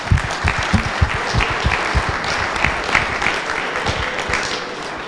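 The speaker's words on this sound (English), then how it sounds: "a round of applause to all the volunteers and speakers" Room full of staff at a company quarterly meeting applauding volunteers and speakers, a continuous, even clatter of many hands at close range, sustained without a break.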